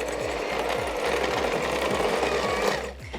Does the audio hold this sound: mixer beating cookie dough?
yes